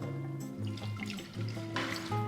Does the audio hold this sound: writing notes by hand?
no